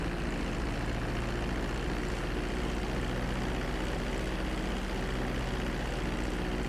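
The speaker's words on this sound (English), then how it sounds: "Start reducing the plane's altitude gradually so you're just above the runway as you approach." Steady, loud airplane engine drone in GTA V as the plane descends toward the runway on a landing approach, a constant low roar with no change in pitch and no speech.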